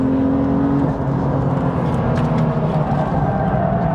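A car drifting at Snetterton race track, its engine holding a loud, steady drone with a faint tyre whine, heard from close inside the car for several seconds with no talking.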